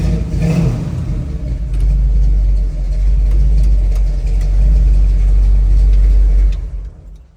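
A 1967 Chevrolet Camaro's engine rumbles loud and close for several seconds, swelling slightly, then is switched off and dies away to quiet near the end.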